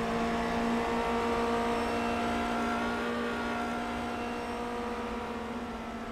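A Formula car engine in iRacing sustains a high, steady whine while lapping Phillip Island, the car at full throttle with the pitch held nearly constant and fading slightly toward the end.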